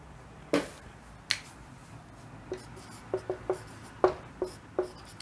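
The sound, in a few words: writing on the board during a maths lesson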